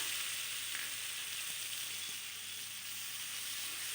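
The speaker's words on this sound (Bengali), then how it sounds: "এবার মশলাটার সাথে ভালোভাবে কষিয়ে নেব।" Spice paste fries with drumsticks in a pan, a steady close sizzle and hiss that runs without a break, with faint stirring scrapes and no voices.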